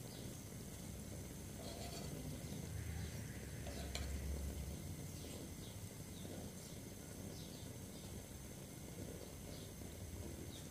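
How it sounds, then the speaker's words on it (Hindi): Bread slices for shahi toast fry in a pan, giving a faint, steady sizzle that carries on unbroken with a few soft clinks and no talking. "स्लाइसेस हमारे वन साइड से हो चुके हैं फ्राई, हम दूसरी साइड से अच्छे तरीके से कर लेंगे।"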